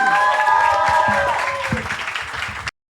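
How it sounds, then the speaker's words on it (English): Audience applause at a college marketing competition, a short burst of clapping mixed with voices and tonal music, fading out abruptly. "huge round of applause for Ayush."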